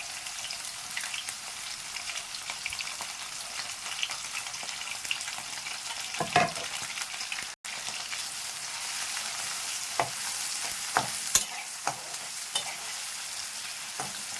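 Chopped onions fry in oil in a pan, a continuous close sizzle broken by scraping stirs and a few sharp clinks of the utensil, with no voices.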